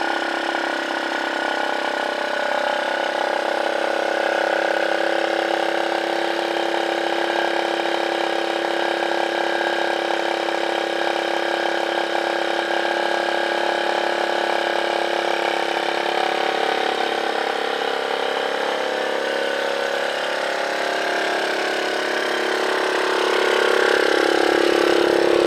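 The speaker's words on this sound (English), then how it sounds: "And the choke is on. Just in case anybody's wondering why it's idling so high." A 1984 Suzuki Quadrunner ATV engine idles high with the choke on, a steady, close buzzing drone that holds unbroken for about twenty seconds, then shifts and swells slightly at the end.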